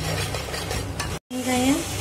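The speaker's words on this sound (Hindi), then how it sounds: "अब इसको हम अच्छे से मिलाएंगे।" Tomatoes and salt are stirred in a pan for chole, making a sizzling frying hiss with scraping strokes, a short silent gap, then more stirring and a faint tonal squeak.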